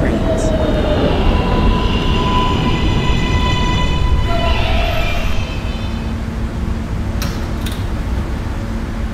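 An R143 Q Express subway train running in the Roblox PTA Subway game, with a loud, steady rolling rumble and faint wheel squeals throughout.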